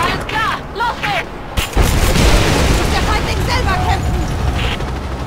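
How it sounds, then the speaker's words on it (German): In Rise of the Tomb Raider, a shot at a fireball next to a helicopter sets off a heavy explosion. A sudden boom breaks out partway through and turns into a sustained roaring rumble. Short tonal voice sounds are heard before and during the blast. "Wenn ich auf den Feuerball schieße, trifft die Explosion vielleicht den Heli."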